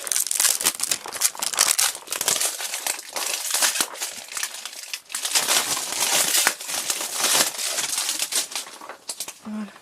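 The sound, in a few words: plastic wrapping being removed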